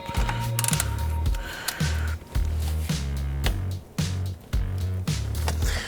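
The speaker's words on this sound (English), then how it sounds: "we're going to pull our two caliper bolts. I've already pulled the bottom ones. Now let's pull the top." Rusty brake caliper bolts on a Ram 2500 Cummins diesel pickup are worked loose with a wrench, giving loud, close mechanical ratcheting and clattering in repeated rhythmic bursts with short pauses, no talking.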